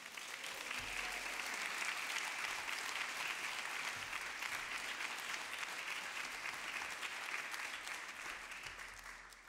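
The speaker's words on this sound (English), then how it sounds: "A hearty round of applause for Atiba Ellis and Hans von Spakovsky." A debate audience applauds as two speakers are welcomed to a voter ID debate, dense even clapping swelling and then slowly tapering, fairly distant and soft.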